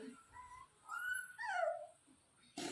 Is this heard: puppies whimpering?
yes